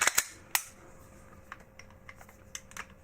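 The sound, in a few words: Glock 17 Gen 5 pistol slide being handled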